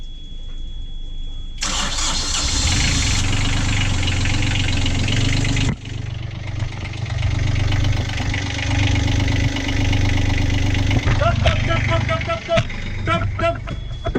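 A sailboat's engines start and run loud and steady, a deep rumbling drone with knocking and clattering on top, the port engine troubled; a brief dip midway and sharper rattles near the end.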